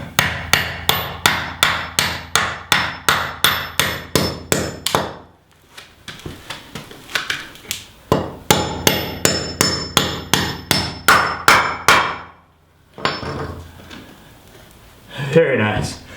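A hammer driving fasteners while bathroom walls go up in a tiny house: a long run of rapid, evenly spaced loud strikes, a pause, then another burst of blows, close and sharp with occasional talk.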